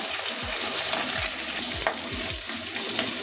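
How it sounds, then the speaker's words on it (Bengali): Two rohu fish heads fry together in oil, with a steady close sizzle broken by a series of low thuds and knocks as they are moved and turned in the pan. "দুটো মাথা একসঙ্গে ভেজে নিচ্ছি"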